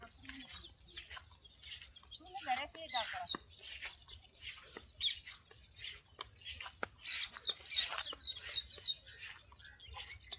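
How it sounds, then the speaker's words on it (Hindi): Birds chirp and twitter in an open field, several calls overlapping at close to middle distance, with a quiet breezy background. "तो पक्षियों की आवाज़ चहचहाट कितनी अच्छी है ना।"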